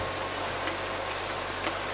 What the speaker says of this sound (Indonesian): terutama kalau pas hujan deras seperti sekarang ini